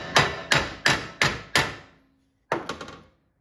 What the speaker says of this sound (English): Hammer on this a little bit.